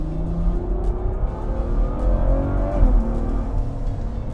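The V12 engine of a Ferrari GTC4Lusso in sport mode revs loudly, its deep growl rising in pitch and then dropping sharply, over heavy low rumble and road noise.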